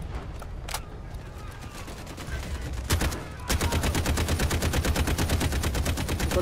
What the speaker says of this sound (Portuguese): Tô atirando todo mundo